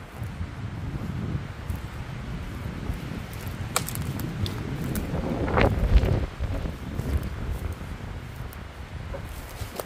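Strong wind at a wild campsite among downed trees: a steady roar of gusts buffeting the microphone, with rustling and a louder swell midway, no voices.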